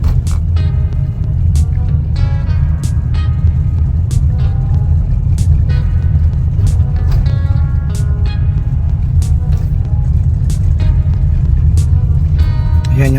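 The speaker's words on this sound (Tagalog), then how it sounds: "Yung takbo ng ating sasakyan is 25 lang." Car driving slowly at about 25 along a rural road in the summer afternoon, a steady loud low engine and road rumble throughout, with scattered clicks, knocks and faint higher tones over it and no clear talk.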